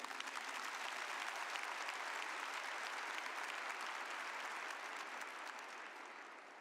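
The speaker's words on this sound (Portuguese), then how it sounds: "Queria que você aplaudisse Santo Agostinho." A congregation applauds in honor of Saint Augustine during a sermon, a soft, even wash of many hands clapping at some distance that holds steady for several seconds and then begins to taper.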